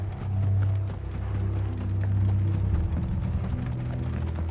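Horses gallop in Final Fantasy XVI in a fast, steady clatter of hooves, accompanied by a low rumbling drone and some mechanical rattling.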